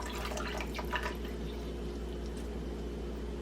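Chicken broth pours and splashes steadily into a foil-lined pan over turkey wings at close range, a continuous wet trickle over a low background hum.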